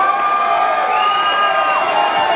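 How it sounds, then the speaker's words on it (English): A wrestling arena crowd cheers loudly and continuously, a dense roar of many voices with whistles and shouts layered on top, steady throughout without a break. "the crowd is ready for it."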